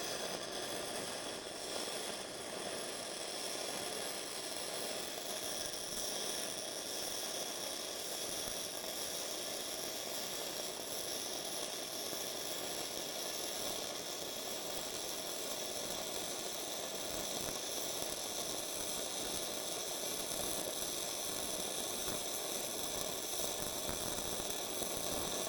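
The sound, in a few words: Bestarc gasless flux core MIG welder welding 1/4 inch plate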